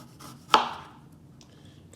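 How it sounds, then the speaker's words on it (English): A kitchen knife comes down once on a cutting board while chopping chicken hearts into chunks, making a single crisp, close chop, followed by a faint tap. "I'm just going to cut them at a bias into these chunks"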